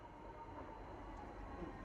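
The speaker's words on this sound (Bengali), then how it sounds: "এই যে ট্রাম চলে আসছে, ওয়েস্টার কার্ড টাচ করে ট্রামে এখন ঢুকছি।" A London electric tram pulls in to a stop with a low, faint, continuous rumble of rolling wheels and motor.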